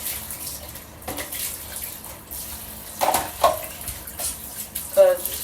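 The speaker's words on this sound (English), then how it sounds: "I'm just rinsing it out a little bit." Water splashes and trickles as a fridge part is rinsed out in a sink, with intermittent gurgles and splatters at a moderate level and no talking.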